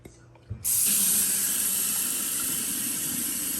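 Cold tap water runs steadily into a sink, rinsing a batch of day-four broccoli sprouts; a brief clunk comes before the flow gushes on and keeps going, close and fairly loud, with no one talking.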